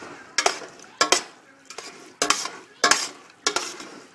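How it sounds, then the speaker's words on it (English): Goulash of onions, kidney beans and canned tomatoes being stirred with a utensil in a pot, making sharp scraping clacks about every half second with a soft wet churn between them, close and clear with no talking. "And I just stir it up."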